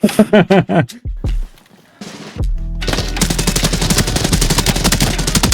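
Uzi submachine gun fired in Arena Breakout: Infinite, a few sharp single shots, then a pause before a long, loud, rapid automatic burst of closely spaced cracks runs to the end.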